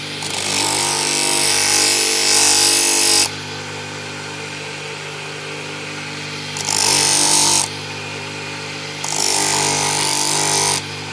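Rusty blade being sanded with 120-grit sandpaper: three loud, harsh bursts of abrasive grinding, the first about three seconds long and the others shorter, separated by a steady motor-like hum.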